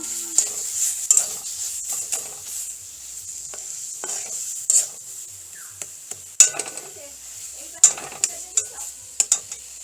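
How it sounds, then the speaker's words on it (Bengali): Amrul greens being stirred in a pan with salt and turmeric, a steady soft sizzle broken by scraping strokes and light clinks of a spoon against metal, close and fairly quiet, no talking. "এর মধ্যে দিয়ে দেব নুন, হলুদ আর একটু নেড়ে নেব।"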